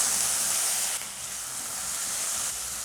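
Steady, hissing sizzle of soaked plantain pieces frying in hot oil in a pan, loud and close, dipping slightly after a second and continuing without voices.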